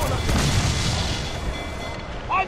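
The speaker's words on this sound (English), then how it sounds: "Cannon ready! Fire!" Ship cannons firing in the video game Assassin's Creed Freedom Cry, a dull booming blast over wind and water noise, followed by shouting voices.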